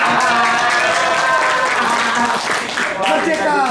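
Audience at a church family retreat clapping for women, a steady broad wash of applause with voices and cheering mixed in throughout.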